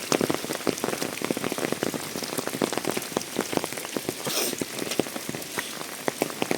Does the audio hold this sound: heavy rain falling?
yes